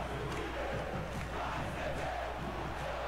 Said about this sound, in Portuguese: Olha a torcida do Sport.